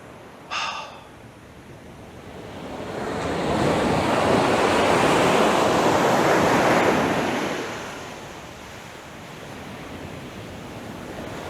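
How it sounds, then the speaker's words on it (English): Big ocean waves surge and crash onto the shore in a long swelling roar that builds, peaks and fades, with wind buffeting the microphone and a brief sharp gasp near the start; no talking. "you see some of these waves are absolutely massive"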